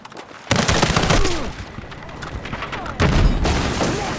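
Sustained gunfire from the video game Battlefield 6, loud volleys and bursts that surge at the start and again near the end, with explosions and voices mixed into the battle din.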